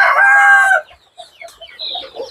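Young chicks and hens at a poultry farm brooding house, opening with a loud close crow-like call that breaks into scattered clucks and chirps.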